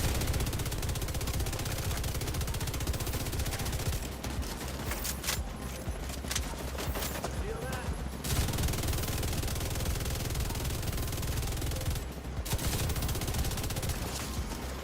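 Light machine gun in The Division 2 firing in long sustained bursts, a dense continuous roar of rapid shots that pauses briefly twice before resuming.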